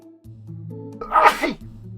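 A single loud sneeze, close by, over a steady low hum from music or a game in the background.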